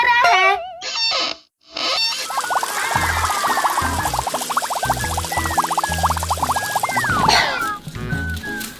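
Cartoon water gushing out of a freshly unblocked pipe, a steady bubbly pour with wobbly whistling effects over it, loud and continuous for most of the clip after a few brief comic sounds and a short gap.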